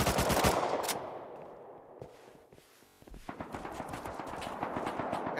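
AK rifle gunfire in Rust Console opens with a fast, loud burst, fades into a short lull, then returns as a run of sharp single and rapid shots.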